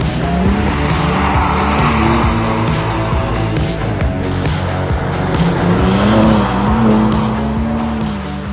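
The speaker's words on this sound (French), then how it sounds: "Dites-moi ce que vous pensez de mon petit niveau en drift" A car drifts with loud, sustained tire squeal over a revving engine, the screech rising and falling in long sweeps throughout with no pauses.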